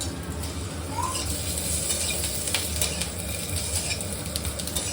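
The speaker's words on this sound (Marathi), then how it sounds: "त्याच्यामध्ये थोडंसं तेल घालून आपल्याला भाजायचे म्हणजे मिरची चांगली भाजली गेली पाहिजे" Green chillies roast in a little oil in a pan for Satara-style baingan bharta, giving a steady low sizzle with occasional spoon scrapes and clinks, close and continuous, with no speech.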